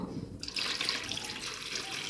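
Water poured into a chicken marinade with vinegar, a steady splashing pour that starts abruptly and continues evenly to the end, close by.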